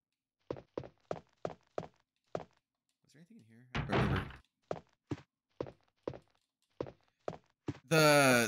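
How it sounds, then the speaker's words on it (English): A door-opening transition from the Resident Evil video game, Jill's campaign: a steady run of sharp, evenly spaced footstep-like thuds, a heavy creaking groan in the middle, and a loud sweeping swell closing it out, with no talking. "The door transitions never bothered me"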